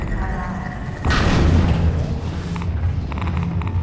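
A loud deep boom bursts out mid-clip in Half-Life 2: Episode One, rumbling over continuous game sounds and music, with a voice talking in the background.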